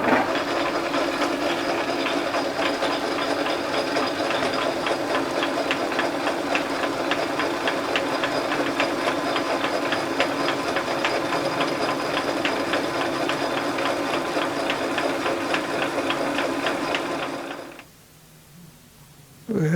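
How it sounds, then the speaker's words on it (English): A 1917 Avey drill press cuts 7/16 by 14 threads with a steady, loud mechanical drone and rhythmic clatter that runs continuously for most of the clip, then stops abruptly near the end. "Okay, I'm cutting 7/16 by 14 threads."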